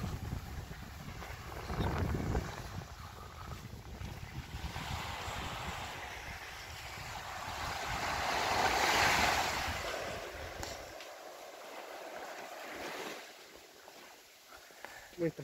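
Sea waves wash onto Huicha beach near Ancud, Chiloé, a steady broadband surf with a louder swell midway, mixed with wind rumble and gusts against the microphone.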